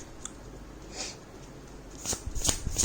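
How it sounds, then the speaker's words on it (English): Quiet tarot cards being shuffled, with soft riffling and a few sharper snaps and taps toward the end. "Let me just shuffle once"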